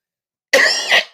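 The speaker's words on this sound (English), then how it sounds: "This is a little coughing." A man coughs once into a microphone during a UFC post-fight talk show, a loud, close, rough burst that trails off, after a moment of silence.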